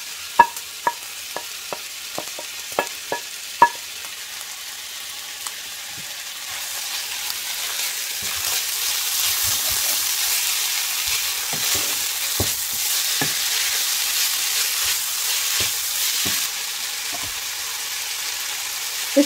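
Tomatoes and garlic fry in a pan for karnıyarık. A few sharp spatula taps come first, then a steady loud sizzle builds under repeated scraping strokes, with no talk.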